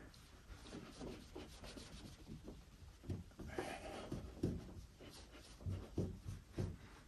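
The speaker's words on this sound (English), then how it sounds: "A little elbow grease, you know, keep going in circles" A microfiber cloth rubs over Jeep Wrangler JK paint by hand in quick, repeated circular strokes, a close, soft scrubbing swish with uneven rhythm and no speech.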